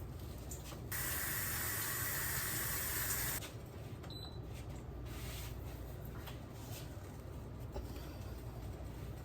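Running water from a kitchen tap rinses a piece of pork, a steady hiss that surges louder for a few seconds before settling into a softer, continuous flow.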